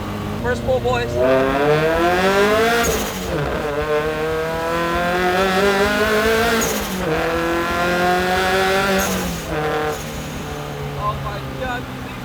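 A turbocharged Subaru BRZ fitted with a new, deeper exhaust and a blow-off valve accelerates through several gears. The rising engine tone breaks at each shift with a hissing release. It is loud and close from inside the cabin, with occasional talk.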